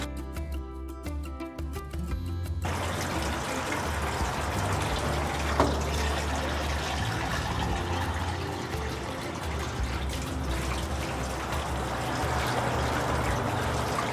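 A Harbor Freight 1/6 HP submersible utility pump sends a steady stream of water into a quart measuring cup, a continuous close pouring and splashing after a brief quieter start.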